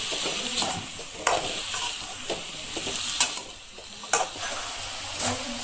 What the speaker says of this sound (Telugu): సో ఆ ముక్కలన్నీ మనము వంకాయ ముక్కలన్నీ వేసేసుకోవాలి. వేసుకొని ఇలా ఫ్రై చేసుకోవాలి.